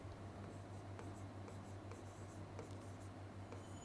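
Chalk or marker strokes on a classroom board during an exam-prep lesson on rankings, a steady run of faint scratchy taps and short strokes over a constant low hum.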